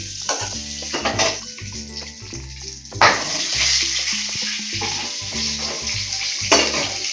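Egg frying lightly in a pan with onions for egg do pyaza, a steady sizzle broken by repeated scraping stirs of a spatula, close and moderately loud, with no talking.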